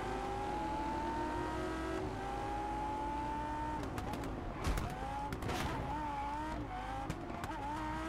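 A Ferrari engine drones and climbs in pitch while racing in Test Drive Unlimited Solar Crown, with a shift and brief tire screech midway before the revs rise again; a voice speaks faintly beneath it.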